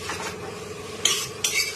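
Pre-fried cauliflower florets go into a pan of oil and tomato and are stirred, with a soft sizzle under scraping, clinking spoon-on-pan strokes and two sharper metallic knocks near the end, close by and without speech.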